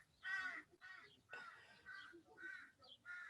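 Crows caw outdoors in a run of loud, repeated harsh calls, several overlapping at close range, with no talking.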